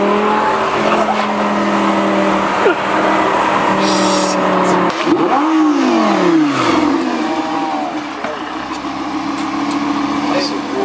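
A Lamborghini engine revs and accelerates loudly with rising and falling sweeps in pitch, partly mixed with music, and voices talk over it.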